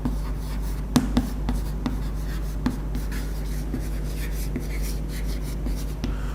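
Chalk or marker writing on a classroom board during a medieval Indian history lecture, with soft scratchy strokes and a few sharp taps against a steady hum, and no talk.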